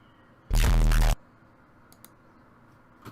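A single loud, short cartoonish Roblox "oof" grunt sound effect bursts out once, followed by quiet with a couple of faint clicks.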